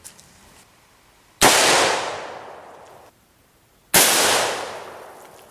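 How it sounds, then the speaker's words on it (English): An AK rifle fires two loud, sharp shots at pieces of Kevlar, each crack trailing off in a long echoing decay, the second about two and a half seconds after the first, with no voices. "Now we're going to shoot the Kevlar pieces with the AK."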